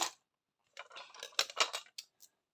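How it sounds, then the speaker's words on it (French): Scissors snipping the threads of a handmade sewn notebook, close and quiet, with one short snip, a pause, then a run of several crisp clicks and metallic snaps tapering to a couple of final light cuts. "On vient couper nos fils et c'est bon."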